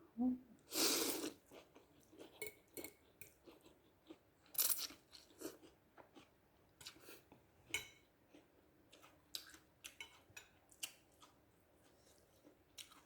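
Close crunchy chewing and biting while eating khanom jeen rice noodles, with a few louder crisp bites early on and softer repeated mouth sounds throughout, plus occasional faint background voices.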